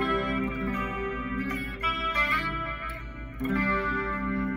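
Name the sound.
electric guitar with reverb, Pod Go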